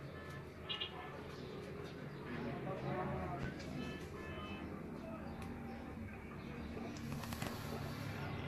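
Racing pigeons returning from a 25 cup flight on a rooftop in Multan, with soft cooing and fluttering calls over steady background noise and a voice talking nearby.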